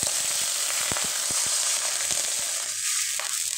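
Water poured into hot ghee with a bay leaf in a pan, producing a loud, continuous close sizzle with scattered popping crackles throughout.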